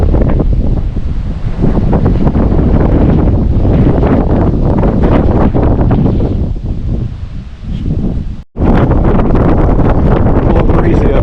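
Strong wind on a mountain top near a fire tower roars constantly into the microphone, with loud buffeting gusts that cut out for a moment near the end before returning, and a voice speaking briefly.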